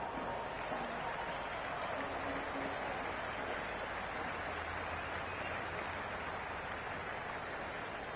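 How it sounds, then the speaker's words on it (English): A stadium crowd in the Cricket 26 video game, during a Sri Lanka versus Pakistan T20 match, keeps up a dense, steady roar of cheering and buzzing noise throughout, with a commentator's voice faintly underneath. "There's a buzz, a real buzz coming from the stands."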